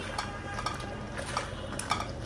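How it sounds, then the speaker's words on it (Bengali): Metal pot lids clink and rattle on cooking pots in a home kitchen, a run of light, irregular taps and knocks over a faint background hiss, with no talking. "ঢাকনাগুলো এখন খুলে দিই ঢাকনা খুলে এখন রান্না করব"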